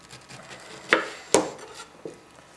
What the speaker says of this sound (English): I'm going to take a core out again.